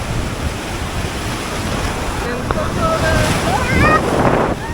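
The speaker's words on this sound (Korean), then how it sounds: "장난 아니에요 파도 개세요 들어봐요" Strong ocean surf at South Padre Island beach, a constant loud roar of waves with heavy wind buffeting the microphone, rising toward the end, with faint voice-like tones briefly over it.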